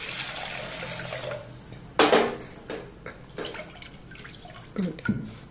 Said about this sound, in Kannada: ಹಾಗೆ ನೀರನ್ನು ಕೂಡ ಹಾಕಿಕೊಳ್ಳುವ.